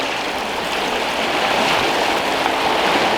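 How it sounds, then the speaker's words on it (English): Ocean waves wash steadily over coastal rocks near a rock pool, a continuous loud broadband rush of surf and moving water with no break or voices. "when the waves come in"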